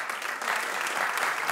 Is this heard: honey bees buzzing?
no